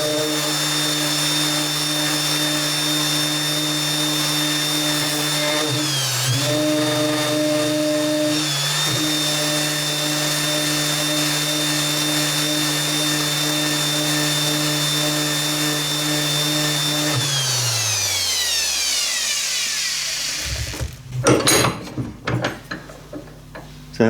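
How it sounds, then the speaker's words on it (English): A high-pitched power tool whines steadily while a 400 grit disc polishes a metal part for an Art Deco wall sconce. Its pitch dips briefly twice, then the motor winds down and some clattering handling noise follows. "So let's just leave it with that 400 grit disc,"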